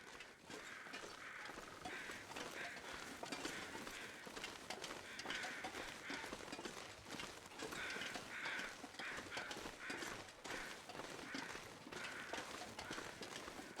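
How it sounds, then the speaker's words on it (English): Crows caw repeatedly in the wintry wilderness of the survival game The Long Dark, their calls fairly close and recurring in bursts over a steady background of wind-like noise and footsteps. "Crows flying straight."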